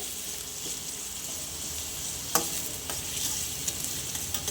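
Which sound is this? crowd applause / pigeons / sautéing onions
sautéing onions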